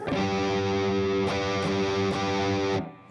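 Electric guitar with heavy distortion plays a G lick built on the A-shaped chord, sustained loud notes with a few quick changes before cutting off near the end.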